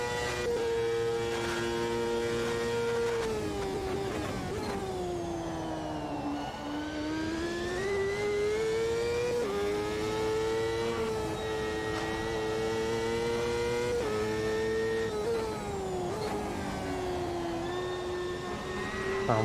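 A race car's engine braking and downshifting in the Automobilista 2 racing game: a steady loud droning whine that sags and rises in pitch as gears change, continuous throughout with no talk.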